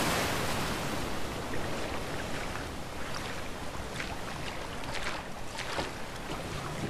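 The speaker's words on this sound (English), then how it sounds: "Waterfall!" Waterfall and rushing river water in the video game A Way Out, a dense, steady roar of broadband water noise with no breaks or pauses, loud and close throughout.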